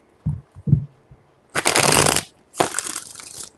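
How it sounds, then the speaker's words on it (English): Tarot deck being shuffled by hand, two brisk riffling bursts close up after a few soft taps and handling knocks. "Four shuffles."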